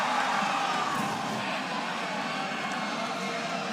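A college baseball stadium crowd at an NCAA regional game roars in a sustained, dense wall of cheering and shouting that stays loud and steady throughout.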